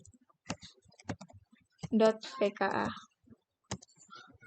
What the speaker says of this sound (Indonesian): lalu kita ketikkan netACAD.pka.